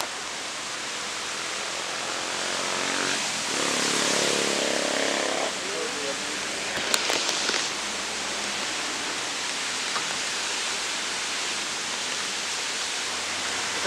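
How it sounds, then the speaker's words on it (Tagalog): Steady hiss of rainfall fills the whole stretch, with a brief louder swell early on and a few faint clicks and knocks midway. "Inabutan ako ng ulan dito."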